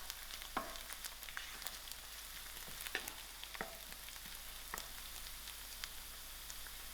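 Mustard seeds pop and sizzle in hot oil while dhal is being made, with a steady frying hiss broken by sharp crackling pops at irregular intervals and no talking.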